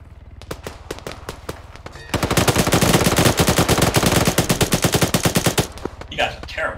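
Video game gunfire starts as scattered single shots, then turns into a long, loud and rapid automatic burst of evenly spaced shots, followed by a brief quieter tail.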